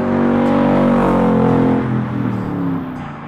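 A Factory Five Mark IV Cobra replica roadster engine roars nearby, revving hard with a deep throaty rumble, then easing off as the pitch drops and fades slightly.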